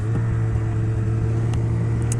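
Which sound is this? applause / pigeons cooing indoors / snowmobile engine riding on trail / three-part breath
snowmobile engine riding on trail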